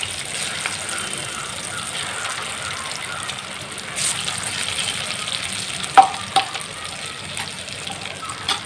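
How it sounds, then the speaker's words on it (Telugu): Chicken pakoda pieces coated in gram flour batter deep fry in hot oil, giving a steady, moderately loud sizzle with a couple of brief clinks near the end. "ఇప్పుడు డీప్ ఫ్రై చేసుకోవాలి."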